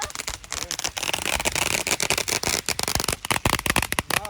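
A fast chain of Diwali firecrackers crackles and pops continuously, loud and nearby, during a Diwali celebration in Canada.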